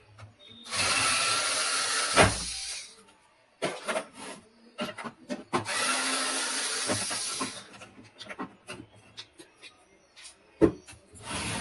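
Small screws being worked loose inside a Canon G2010 inkjet printer during a pickup assembly repair: bursts of scraping, rubbing metal-and-plastic noise with clicks and knocks between them, close up, with no talk.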